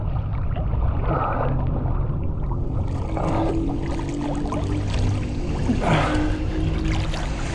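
Water sloshing and splashing as a person climbs into an outdoor swimming pool under hot sun, a few soft surges over a steady low rumble of wind or handling noise, with no talking.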